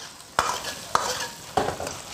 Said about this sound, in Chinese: 下入黄鳝， 在油里面爆炒一下，